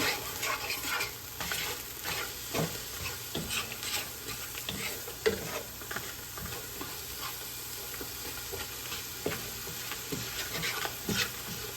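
Garlic stirred and frying in a pot for ground beef stew, a steady close sizzle with repeated scraping stirs throughout, no talking.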